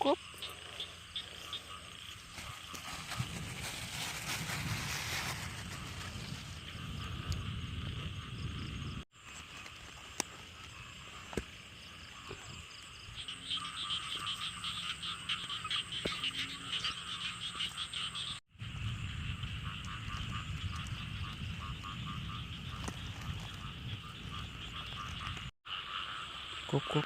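Frogs croak continuously in a rice field behind a house, a dense chorus mixed with chirping insects, steady and fairly loud throughout with brief dips.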